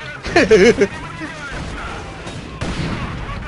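Several sharp mortar blasts in Company of Heroes 2 cluster together, with a loud burst of distant booms and crackle, then a fainter thud a couple of seconds later.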